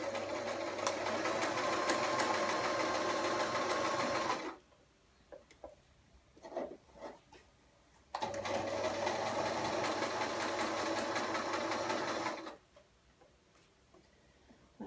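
A sewing machine stitching fabric, running in two loud, steady bursts of rapid mechanical ticking with a quiet gap of faint clicks between them.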